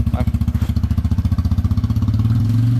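A Toyota KDH van engine idles close by with a rapid, steady thumping chug that picks up slightly toward the end.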